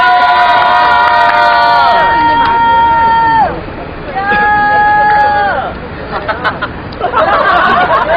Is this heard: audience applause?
yes